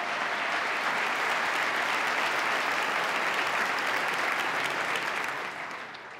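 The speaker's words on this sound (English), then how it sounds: "Let's give the new County Executive a round of applause" A large audience applauds the new County Executive at the 2018 New York State of the State Address, with loud, sustained clapping that fades slightly at the end.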